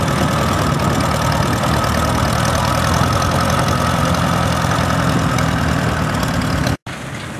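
An International Harvester I-12 tractor engine runs steadily nearby at a vintage tractor show, with a loud, even mechanical chugging that holds constant before a sudden brief cutout near the end.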